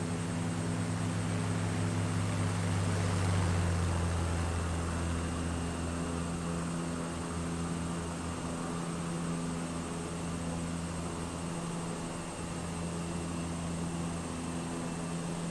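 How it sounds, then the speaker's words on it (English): Aircraft engine drone from a flight simulator game, multiplayer flight over northern Tasmania: a steady hum builds slightly toward a close pass around the third second, then settles into continuous cabin-like engine tone, no talking. "Nice flyby there"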